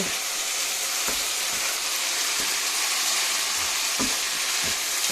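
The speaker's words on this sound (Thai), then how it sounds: "ผัดให้ถั่วงอกสลบก็เสร็จแล้วนะคะ" Bean sprouts and meatballs stir-fry in a hot pan with a continuous loud sizzle, punctuated every second or so by the knock of a spatula or ladle scraping and tossing the food.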